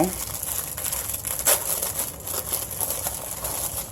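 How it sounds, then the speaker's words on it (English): Crinkly plastic wrapping on a package of sponges rustles and crackles as it is torn open, close and fairly loud, with a sharper crunch midway and no talking. "I open a package of sponges"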